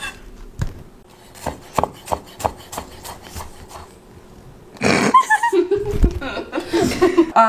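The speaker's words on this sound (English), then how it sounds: "we're going to bring them straight to our knife and cut little cubes" A knife cutting an apple into little cubes on a board: a steady series of sharp, separate chops over a few seconds, then a louder stretch with voices and laughter.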